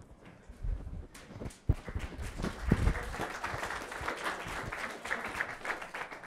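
An audience at a talk breaks into applause, starting with a few scattered claps and swelling into steady, dense clapping over several seconds.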